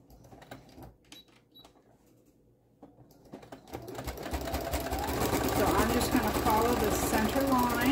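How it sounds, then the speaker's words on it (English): A sewing machine stitches a hot pad: a few sparse clicks and short bursts under quiet talk, then a loud continuous whirring run of stitching that builds and holds to the end. "I'm going to start with a back stitch, which mine just kind of sews in place."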